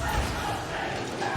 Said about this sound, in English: you hear "Let's Go Zips" in the crowd